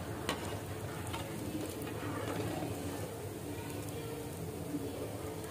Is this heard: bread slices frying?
yes